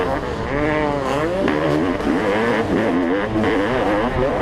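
A 32-year-old Honda CR500 two-stroke racing against modern dirt bikes on a hillside track, engines droning and revving continuously up and down close by, with a commentator talking over them.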